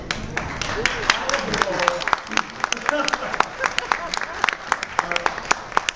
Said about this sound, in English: big round of applause for Becky.